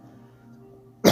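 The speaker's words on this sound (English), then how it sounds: "It's just a cough." A single loud cough bursts out at the very end, after a stretch of quiet low room hum, close to the microphone with no talking.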